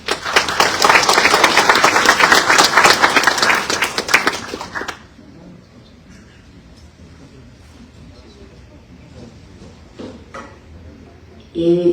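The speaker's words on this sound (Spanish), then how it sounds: "Doctor Jorge, el auditorio del estudio, recibámoslo por favor con fuertes aplausos." A studio audience at a climate change lecture in Peru claps loudly for about five seconds of dense, steady applause, which then stops abruptly, leaving a quiet room with faint movement noises.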